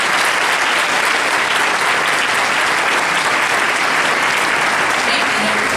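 Steady, dense applause from an audience at a school board meeting, loud and continuous throughout with no gaps.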